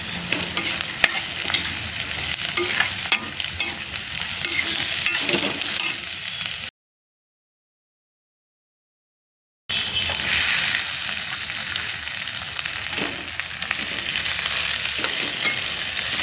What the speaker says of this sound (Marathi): आपण त्याच्यात टॅमॅटो टाकला आहे आणि परतून घेतो आहे